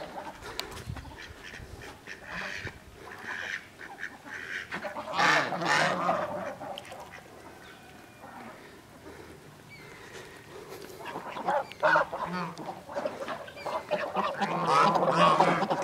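A group of farm ducks quacks and honks loudly and keeps calling in bursts outdoors, with a little faint talk in the background.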